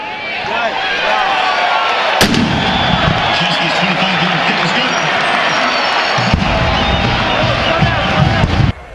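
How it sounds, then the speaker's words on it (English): A field cannon made from a 37mm anti-tank gun with a shortened barrel fires two loud, close booms several seconds apart, each followed by rumbling echo. Crowd noise and voices run underneath. "I load the field cannon."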